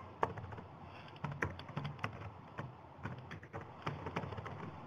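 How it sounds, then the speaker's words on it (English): Quiet typing on a computer keyboard, irregular clusters of light key taps spread across a few seconds with no voices, heard close and soft. "Poor typing."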